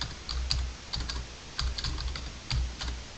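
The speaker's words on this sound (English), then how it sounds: "but in this case I'll just type it out" A web address being typed on a computer keyboard, with quick bursts of close, crisp key clicks separated by short pauses, with no talking.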